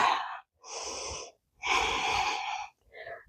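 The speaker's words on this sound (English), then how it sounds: "Breathing deep." Deep, audible breaths during a yoga bridge pose, alternating slow inhales and exhales with brief pauses between, close to the microphone.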